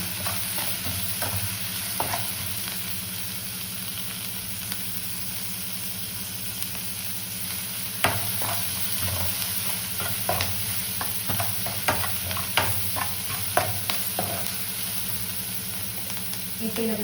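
Onions frying in ghee and oil sizzle steadily in a pan, with frequent sharp scrapes and clatters of a spoon stirring them, the stirring growing busier in the second half.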